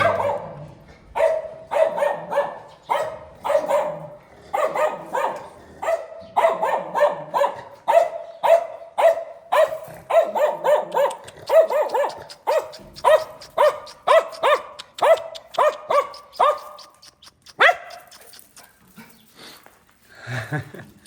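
A dog barks repeatedly at an arriving guest, a long run of loud, closely spaced barks with occasional yips that slows and thins out toward the end.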